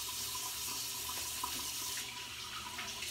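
Cold water runs steadily from a bathroom tap during a wet shave, a continuous splashing flow into the sink at a fairly quiet level, alone with no voices.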